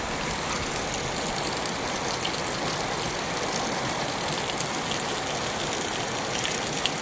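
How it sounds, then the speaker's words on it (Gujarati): Heavy rain falls steadily outdoors, a dense, even, roaring wash with no breaks or changes in level, unbroken by any voices. "તો ફૂલ વરસાદ આવ્યો."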